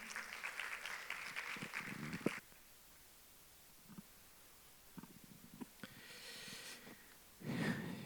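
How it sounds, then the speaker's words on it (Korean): Audience applause greets a speaker taking the stage at the 2023 International Island Forum in Yeosu, a session on island ecosystem recovery: a dense burst of clapping that fades to quiet room tone, then swells again near the end. "여러분 큰 박수로 맞이해 주시기 바랍니다"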